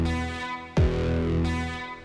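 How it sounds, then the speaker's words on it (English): Distorted electric guitar chord hit from a drop, layered with a punchy kick drum that lands once mid-clip, with the guitar sustaining loudly around it. "But if we introduce it together with the kick, then it sounds like..."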